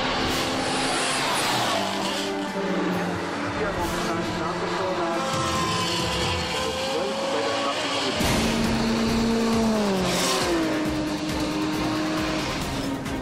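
A Lexus LFA race car drives in an endurance race, its engine revving high and shifting through rising and falling pitch sweeps, loud and close, with a narrator talking over it.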